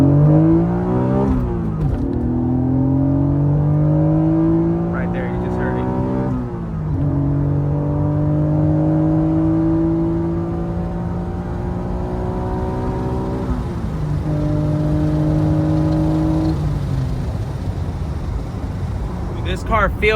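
An Acura NSX engine starts and revs repeatedly, climbing through the VTEC range and dropping back between pulls, loud and close for about twenty seconds with a steady rising whine on each rev.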